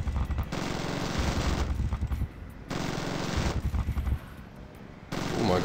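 Sustained automatic gunfire rattles in loud, dense bursts in the zombie shooter Zombie Gunship Survival, with brief pauses between long volleys and no talking.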